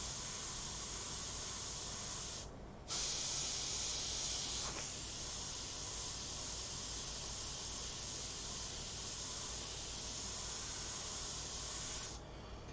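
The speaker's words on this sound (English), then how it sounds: "We'll just blow this out. Open up the air valve a little bit." An airbrush with its air valve opened blows out a steady, fairly quiet high hiss of air, briefly cutting off and restarting stronger, then continuing evenly before another short stop near the end.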